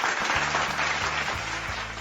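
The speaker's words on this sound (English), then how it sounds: "I want to take a moment out and just applaud for" Applause from a group of hands clapping, a steady dense wash of claps sustained at even loudness throughout, with a low hum underneath and no voices.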